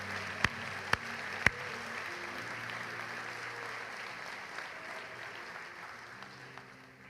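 A church congregation applauds in steady, faint clapping that fades gradually, with a few sharp louder claps near the start.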